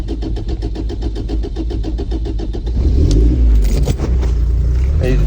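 A truck engine cranks with a rapid, even chugging for a few seconds, then catches and settles into a loud, rough, high idle close by.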